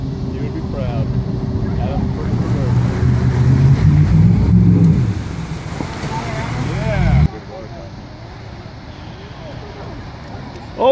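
A truck engine revs and roars steadily while the vehicle fords the Mojave River in Rocky Canyon, loud and close. Water churns underneath, and people talk over it before the noise cuts off abruptly to quieter cabin sound.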